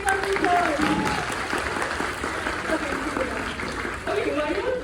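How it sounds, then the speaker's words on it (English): School audience applauding during a cubing presentation for young students, a continuous wash of clapping that carries through the whole stretch, with voices and chatter mixed underneath. "Big up applause"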